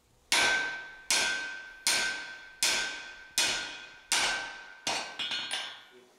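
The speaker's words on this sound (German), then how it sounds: "Dabei ist Felix nicht gerade zimperlich mit Hammer und Meißel." Hammer driving a chisel through hot steel while forging the eye of an axe: six sharp ringing metallic strikes at an even pace, each decaying quickly, then a quicker cluster of lighter taps.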